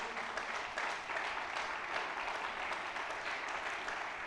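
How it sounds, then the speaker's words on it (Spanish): Sustained applause from a large church congregation, dense and steady clapping filling the room for several seconds without letting up. "Fuerte el aplauso, fuerte el aplauso."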